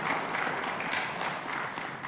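Steady applause for the party chairwoman at a PDI Perjuangan political event, a dense, even wash of many hands clapping at moderate level with no pauses.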